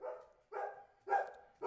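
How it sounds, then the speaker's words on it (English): A dog barks four times at an even pace, the calls muffled and somewhat distant, as if coming from another room, with quiet between them. "And that's my dog a-barking."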